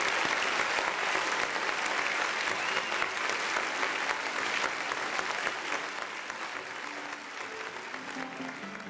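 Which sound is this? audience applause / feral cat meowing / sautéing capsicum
audience applause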